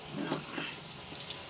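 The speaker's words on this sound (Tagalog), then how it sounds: "pagusan nyo ng tubig na nakabaliktad" Running water pours steadily over a car headlight lens during rinsing, a continuous close hiss and splash with no break.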